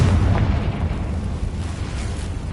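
A Confringo blasting spell detonating in Hogwarts Legacy, a single deep, rumbling boom that swells and slowly decays over a couple of seconds, with no voices.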